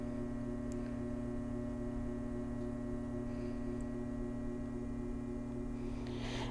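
An electric pottery wheel spins while a clay cylinder is thrown, giving a steady, even motor hum that runs unbroken throughout with no voices.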